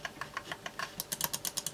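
Clicks from a Dreammachines DM1 Pro gaming mouse: a quick run of about a dozen dull, slightly resonant clicks, sparse then faster, faint and close with no voices.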